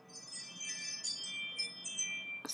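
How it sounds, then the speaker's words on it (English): A bright electronic Ring smart doorbell notification chime rings out in a layered melodic pattern, fairly faint, with a short tonal burst near the end. "My Ring doorbell notification,"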